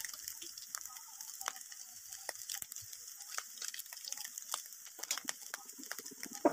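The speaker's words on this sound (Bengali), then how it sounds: "নুডলসটা 3 থেকে 4 মিনিটের মতো ভেজে নিয়েছি" Noodles fry in a pan with spice mix, giving a steady, soft sizzle dotted with small crackles and pops, close and even throughout.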